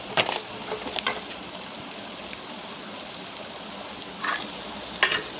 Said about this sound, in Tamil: நல்லா வதக்கிட்டு அதோட சேர்த்து ஒரு 1/2 மூடி தேங்காயும் போட்டு நம்ம வதக்கிக்கலாம்